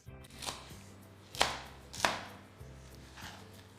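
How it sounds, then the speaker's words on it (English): A knife chops vegetables into small pieces on a cutting board for a rice salad, several crisp separate strikes at an uneven pace, close and clear with no talking. "So I remove them and then I always cut them into small pieces like this."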